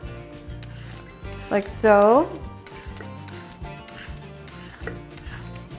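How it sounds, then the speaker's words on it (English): A vegetable peeler scrapes bruised patches from a Korean radish in short, soft rasping strokes, close and fairly faint, while a voice speaks briefly over the scraping. "using a vegetable peeler, just peel off the sections that are a little bit bruised or brown"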